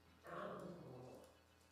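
A dog growls in a single low, rumbling burst lasting about a second, faint and indoors, then trails off.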